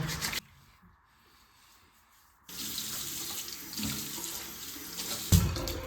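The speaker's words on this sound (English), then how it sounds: "wash your face off a little bit, get all the like dirt off while you were sleeping" Tap water runs into a bathroom sink during a face wash, a close steady splashing stream that cuts off briefly, then returns with rubbing and splashing before a final bump.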